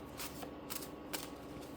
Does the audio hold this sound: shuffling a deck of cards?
yes